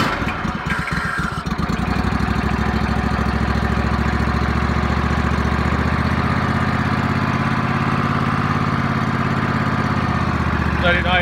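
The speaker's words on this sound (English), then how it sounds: "Let it idle for a while, let it warm up, and I'll check the oil." A RedMax G20LS small engine cranks over a few times, catches and settles into a steady, loud, close idle that keeps running evenly to the end.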